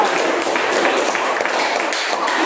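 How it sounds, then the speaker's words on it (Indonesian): Students in a classroom applaud three classmates, a steady wash of many hands clapping at close range, dense and continuous, with voices faintly mixed in. "tepuk tangan dulu untuk 3 orang itu"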